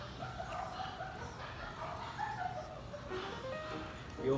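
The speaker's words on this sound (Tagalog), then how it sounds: "Daming aso dito kay Labon, kaya ang dami naming background." Several dogs bark and yip in the background, scattered small barks and whimpers spread through the scene, moderately distant, with a louder bark near the end.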